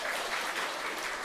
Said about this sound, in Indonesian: Mari kita tepuk tangan sekali lagi.